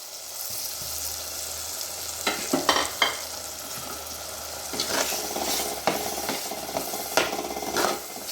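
Shallot and garlic gravy with ground tomato sautéing in a pan: a continuous moderate sizzle broken by several sharp spatula knocks and scrapes against the pan, no talking.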